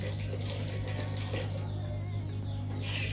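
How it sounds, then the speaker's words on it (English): Water runs steadily from a tap while Sarazzo cleaner is mixed with it during a deep clean of a bedsitter apartment, with a low electrical hum underneath throughout. "I have mixed it with a little bit of water."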